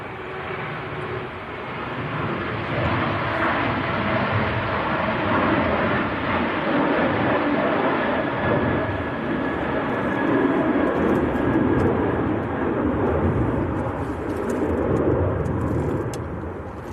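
A Ryanair airliner departs Manchester Airport bound for Milan in windy weather. Its jet engines give a sustained loud roar that swells slightly midway, with a faint whine riding above it and no talk.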